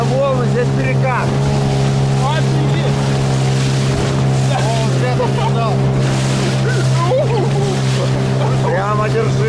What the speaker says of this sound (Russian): Это волны, здесь перекат.